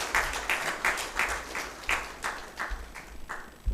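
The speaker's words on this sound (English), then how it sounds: "Let's clap for them as they take their seats." Small audience clapping as participants take their seats at a youth innovation challenge event, a fairly faint, rhythmic run of roughly a dozen distinct claps at a steady beat.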